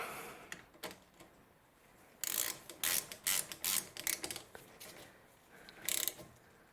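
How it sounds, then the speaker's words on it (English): A hand ratchet tightens front brake bolts on a 2005 Honda Jazz during a disc and pad change, giving several short bursts of close, sharp clicking with brief pauses between them and no talk. "don't over tighten those, they don't need to be so tight, just make sure they're nice and snug"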